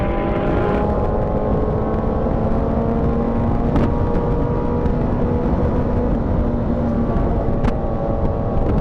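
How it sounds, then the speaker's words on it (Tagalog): Continuous loud engine drone from a superbike motorcycle, steady and close with a constant hum and whir throughout, no revving peaks, heard alone without talk. "Naririnig yung motor ni RJ."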